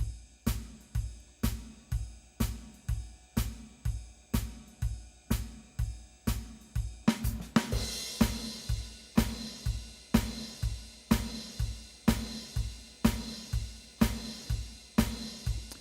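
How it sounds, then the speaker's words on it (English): A Yamaha PSR SX-900 arranger style plays its drums alone: a steady, even beat of kick and hi-hat. Partway through, a crash comes in and the pattern fills out with more snare and cymbal, all close and dry. "just the drums by itself, sounds like this."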